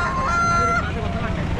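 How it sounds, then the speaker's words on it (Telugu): Fighting cocks at a tribal market in Annavaram give a short, loud crow amid the busy background noise of the market, with a voice talking close by. "ఇవన్నీ పందెం కోళ్ళు"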